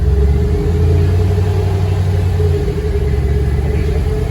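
A 2009 Pontiac G8 with a deep sump transmission pan, heard from inside as it pulls away in first gear: a loud, steady low engine rumble with a strong drone, easing slightly near the end.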